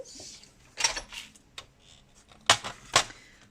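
Structure paper being cut for a scrapbook album, giving a few sharp, close snapping cuts spaced irregularly over a quiet background, with no voices.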